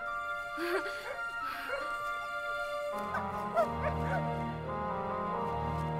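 Dogs yip and whimper with short barks over a steady hum, the yelps coming in quick bursts through most of the stretch.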